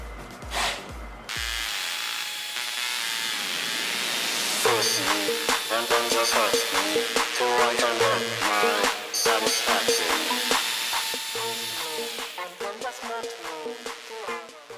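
A power drill whines steadily as it bores into metal with a metal drill bit made by the Vinnytsia Tool Plant, close and loud, with grinding bursts and short pauses between holes.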